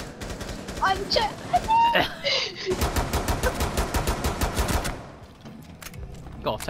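Gunfire in a video game, a sustained rapid automatic burst of evenly spaced shots lasting a couple of seconds, preceded by scattered shots and followed by a few isolated ones, with a player's voice talking over it.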